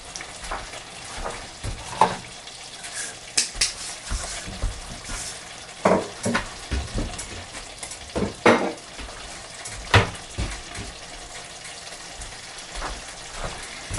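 Fagioli sauce for pasta e fagioli simmers and sizzles in a pot under a soft continuous bubbling. A spoon stirs it with scattered scrapes and clinks against the pot, several louder knocks standing out.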